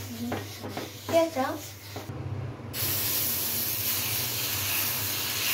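Oil hissing and sizzling on a hot pre-seasoned cast iron dosa tawa, a steady broadband hiss that starts suddenly after a few seconds of talking and then continues evenly.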